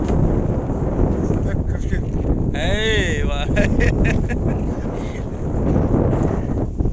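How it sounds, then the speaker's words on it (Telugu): Strong wind buffets the microphone in a constant low roar in a sunny spot where camels are kept, with a brief wavering tone rising through the middle. "ఇక్కడ ఎక్కువ గాలి ఉంది"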